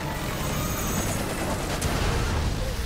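Gunshots in Resident Evil 6 sound as a dense, rumbling burst of gunfire with booming impacts that fill the whole stretch, with a sharper crack near the middle.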